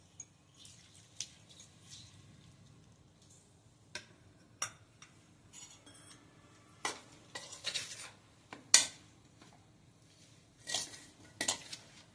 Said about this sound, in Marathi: हे आता ही फोडणी पण गार झालेली आहे हे मी ह्यामध्ये मिक्स करते